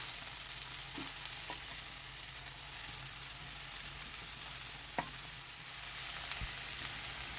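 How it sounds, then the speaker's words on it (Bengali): Boiled cabbage tossed into a pan of lightly fried onion and garlic sizzles softly and steadily, with a few faint clinks of stirring. "আমি এবার এই যে সেদ্ধ করা বাঁধাকপিটা এটা এখানে দিয়ে দিচ্ছি"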